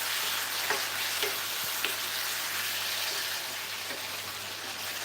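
Shepherd's pie filling in gravy cooks in a pan with a steady, soft sizzle and bubbling, plus a few faint clicks or pops over a constant low hum. No voices.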